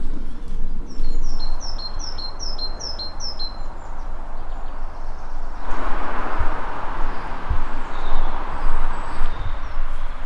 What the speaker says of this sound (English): One of my favourite sounds is birdsong. Birdsong in spring.